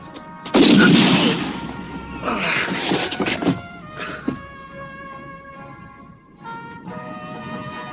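A single gunshot rings out in a Western film, a loud, sharp blast that is followed by several shorter cracks and then lingering, ringing tones that fade out.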